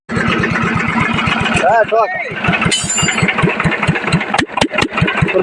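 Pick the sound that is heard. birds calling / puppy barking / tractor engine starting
tractor engine starting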